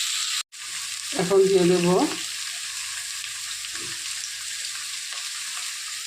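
Taro stems sizzle steadily in hot oil in a pan, a continuous hiss that runs throughout, with a brief spoken phrase near the start.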